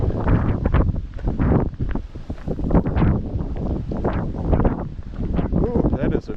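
Strong, stiff northerly wind buffets the microphone on a night walk across open fields in Maine, a loud continuous roar that swells and gusts throughout with no speech.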